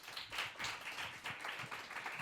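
An audience clapping: faint, scattered applause that goes on steadily for a couple of seconds, with no voices over it.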